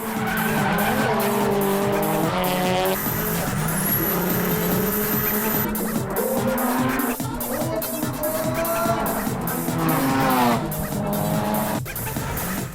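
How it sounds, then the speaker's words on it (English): Cars drifting past each other in a cross-line drift, loud continuous tire squeal layered with roaring engines, the screech wavering and rising over several passes. "The cars changed position and crossed each other's driving line. Everything is done while drifting."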